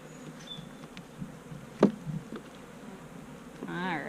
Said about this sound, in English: I can see these bees, they're mostly in these frames